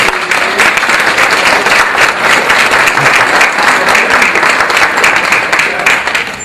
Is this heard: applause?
yes